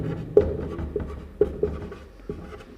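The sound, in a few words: writing on a board during math lesson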